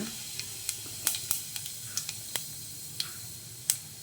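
Cumin seeds dropped into hot oil in a pan crackle and pop in scattered sharp bursts over a soft steady sizzle, close by and fairly quiet, with no talking.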